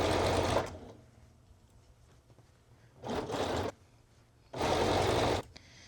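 A sewing machine stitches a stretched knit armband into the armhole of a top, three loud steady whirring runs separated by pauses with faint handling of fabric.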